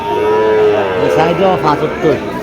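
A cow moos with long, low, wavering calls over a busy background of crowd chatter and voices at a cattle market in Cumilla, Bangladesh.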